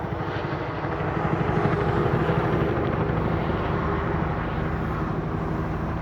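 A police helicopter drones steadily overhead, its rotor throb and engine hum continuous and fairly distant, with no voices.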